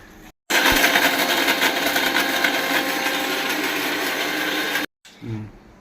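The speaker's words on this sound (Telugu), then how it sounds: "మిక్సీ పట్టుకుంటాను కొబ్బరి ముక్కలను" A mixer grinder whirs loudly and steadily for about four seconds grinding coconut pieces, then cuts off abruptly, followed by a brief voice.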